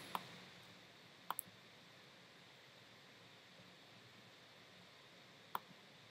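Computer mouse clicking while working in Microsoft Word: three sharp, faint clicks, one at the start, a quick double near the middle and a last one toward the end, over a quiet room hiss.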